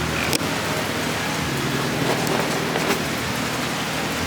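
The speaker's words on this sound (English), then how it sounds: "It's pouring monsoon rain, and it looks like a pretty big storm over the Gulf" Heavy monsoon rain pours steadily during a storm, a dense, continuous hiss of downpour heard up close with no voices.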